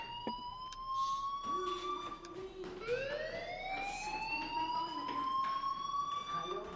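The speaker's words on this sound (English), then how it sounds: "do you hear that fire alarm? That means you should be outside." A fire alarm rings inside a school in the video game Life Is Strange, its rising, wavering electronic wail sweeping upward and holding steady, loud and continuous against faint background voices.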